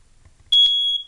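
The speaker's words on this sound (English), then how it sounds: "smoke detectors, there's one there, there's one here. Could you press those?" A loud, shrill smoke detector test alarm bursts on suddenly and holds a steady piercing tone for about half a second, after some faint low knocking.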